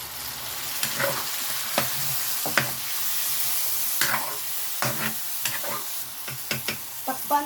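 Pork steak sizzling in a pan as its meat marinade is poured in, a steady close frying hiss broken by scraping stirs and small spattering pops.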